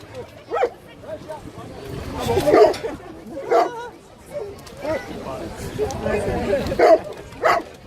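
Water rescue dog barking in short yips and bow-wows during a rescue demonstration, several bursts spread across the clip over steady background noise and crowd chatter.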